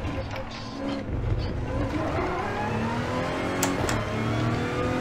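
A race car in Gran Turismo Sport accelerates hard out of a corner at Monza, its engine climbing through rising revs and gear changes, with a voice talking over it.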